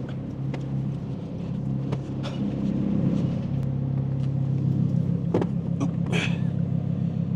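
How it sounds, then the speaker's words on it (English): A car engine left running, idling steadily nearby as a low, constant rumble with a faint hum and no talking. "I literally just left my other car running."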